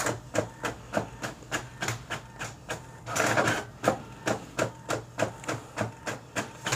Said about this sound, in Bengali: আমরা এই কালার প্রিন্টটাই 10 কপি দিলাম।